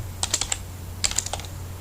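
Typing on a computer keyboard, two quick bursts of about four or five crisp key clicks each over a low steady hum; no one talks.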